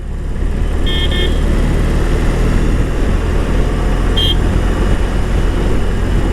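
A 2020 BMW R18 motorcycle ridden in rock mode, a loud steady engine drone mixed with wind roar, and two short high electronic beeps cutting through.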